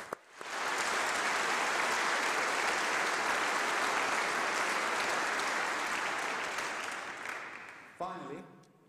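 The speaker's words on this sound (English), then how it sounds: "So a round of applause for the international students." Audience applause at a university graduation ceremony for the College of Life and Environmental Sciences, a sustained loud wash of clapping lasting about seven seconds before tapering off, with a voice starting up at the end.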